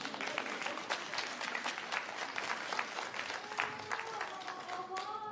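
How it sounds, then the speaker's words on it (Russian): Theatre audience applauding during an evening performance with an actor, a lively burst of many hands clapping in a room, crisp individual claps over a crowd murmur, with a voice briefly heard near the end. "Ну, где аплодисменты?"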